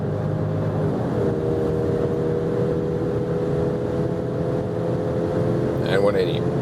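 An SUV, a Mercedes GLC 300 4matic or BMW X3 30i xDrive, accelerates hard from about 90 km/h in sport mode, its engine holding a steady droning tone under road noise, with a short rising whine near the end.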